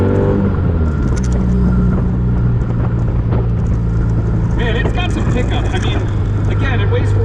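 A lightweight Porsche replica sports car of about 200 horsepower revs its engine and accelerates: a loud, steady engine drone with a rising note toward the end, under continuous talking.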